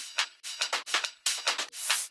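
Dry top loop from an electronic music mix with its reverb removed, a bright rhythmic pattern of crisp, tight hits and noisy bursts, repeating quickly and close with no lingering tail.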